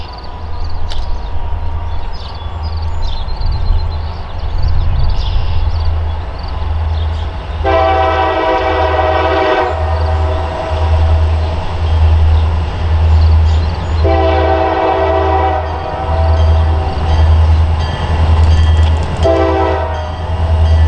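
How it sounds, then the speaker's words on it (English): A CSX local freight train heads east on the Selkirk Subdivision past Game Farm Road in Delmar, its loud, close, steady wheel rumble broken by several long horn blasts. "local freight train L020 makes its way east past Game Farm Road in Delmar"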